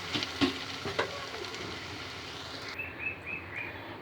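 Alu jhinge posto, a dish of potato and ridge gourd with poppy seed, is stirred in a frying pan with a soft sizzle and a few light scrapes, with faint bird chirps in the background.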